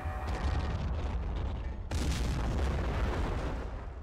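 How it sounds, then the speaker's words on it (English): Artillery fire in the war video game Army Men of War: a dense rumbling barrage of blasts, with one loud booming impact breaking in midway and heavy rolling noise continuing after it. "No! The artillery!"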